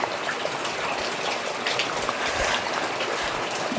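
Heavy rain pounds down outside a village home, a loud dense roar of water with no break and no voices.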